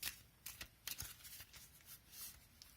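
Oracle cards with crystal-themed faces are shuffled by hand, giving a soft series of quick papery riffles and flicks, fairly faint and close, with no talking.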